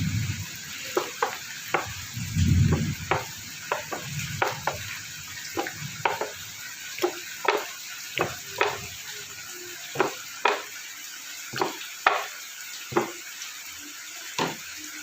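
Coconut oil heating in a pan on the stove, giving a low hiss with a run of sharp, regular crackles and pops about once a second, with a brief clatter near the start.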